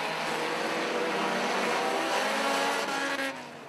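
Pro 4-cylinder race cars roar off at the start of a race, a loud sustained engine drone from the pack that stays steady before easing slightly at the end.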